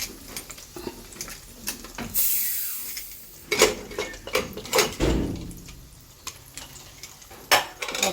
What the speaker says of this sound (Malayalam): എണ്ണ ചൂടുള്ളതുകൊണ്ട് കടുക് ഞാൻ പൊട്ടിക്കോളും.